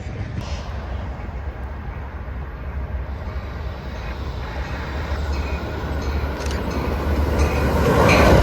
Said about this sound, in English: Next up would be inbound Metra 2704 rounding the curve at Manheim Station,